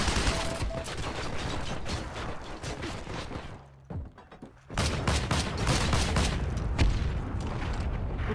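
Gunfire and explosions in the World War II online shooter Heroes & Generals, a dense, continuous barrage of shots with booms. The firing drops away briefly about midway, then resumes at full loudness.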